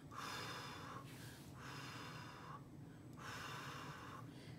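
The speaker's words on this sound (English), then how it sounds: "we suggest first doing some pursed-lip breathing, and that basically will allow your pelvic floor to relax" Someone demonstrates pursed-lip breathing, giving two long, hissing exhales through pursed lips separated by a quieter pause, close and steady with no talking.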